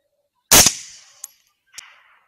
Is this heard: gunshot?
yes